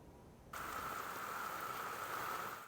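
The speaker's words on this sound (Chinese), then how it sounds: "大雨湍急，街道水流不停。" Heavy rain pours with water rushing through streets in the Dominican Republic under the outer bands of Hurricane Melissa. After a brief quieter moment, a steady, fairly faint hiss of rain begins and continues to the end.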